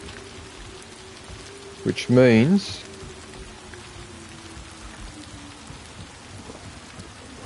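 Steady rain falls in the video game Ghost of Yotei, a soft continuous wash running beneath a brief spoken phrase, with a low distant rumble throughout.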